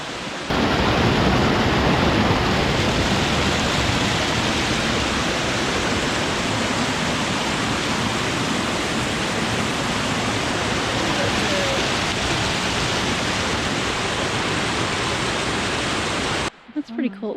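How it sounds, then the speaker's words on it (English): A waterfall on an off-trail barefoot hike roars as a steady, dense broadband rush, loud and unbroken for the whole stretch before cutting off at the end. "You can kind of see that waterfall where we just were"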